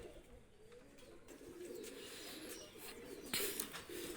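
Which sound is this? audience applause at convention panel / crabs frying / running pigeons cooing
running pigeons cooing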